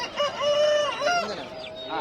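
A rooster crows loudly and close by, one long drawn-out call with rising and falling pitch, over a faint background of other fowl at a country chicken market.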